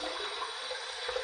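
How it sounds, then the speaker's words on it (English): Hot water running steadily from a sink tap, a continuous close hiss and splash with no pauses and no voices. "I'm going to put this under some hot water."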